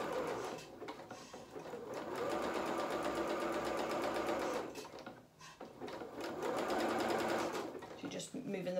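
A sewing machine stitches fur onto a doll's skirt, running in a steady mechanical whir of needle strokes that pauses briefly before starting again, with a person talking over it.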